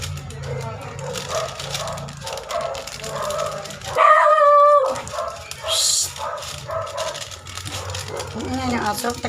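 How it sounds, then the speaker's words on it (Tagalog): A dog barks and yips in short bursts with a brief howling whine, close by in a home kitchen while sinigang na bangus is cooked, with someone talking throughout. "Yan yung aso."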